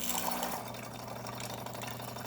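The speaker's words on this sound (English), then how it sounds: "Now we are going to test the hot water function on this machine by grabbing a little tank" A DeLonghi Magnifica XS espresso machine dispensing hot water into a small container, a steady pump hum and hiss of flowing water, close and continuous with no talking.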